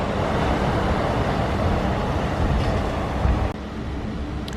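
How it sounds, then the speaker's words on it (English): The gold monorail passes at the Polynesian Village Resort as a loud, steady, close rumble that fills the clip, then eases off abruptly toward the end. "look at the new wrap for the 50th anniversary on the gold monorail"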